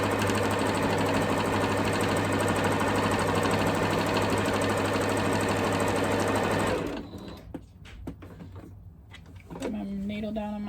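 A sewing machine stitching quilted fabric for a Christmas stocking, a loud continuous whirring run that stops abruptly, followed by quieter handling clicks and brief pauses.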